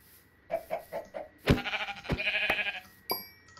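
Sheep in the Minecraft video game bleat several times in quick succession, close and clear, with sharp thumps and hit sounds from the game mixed in near the middle and end.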